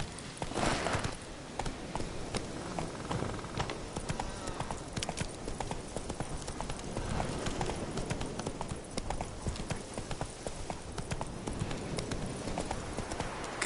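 Roach, a horse in The Witcher 3, gallops in a steady clip-clop rhythm of hooves, close and continuous, with game ambience behind and a brief louder burst at the start.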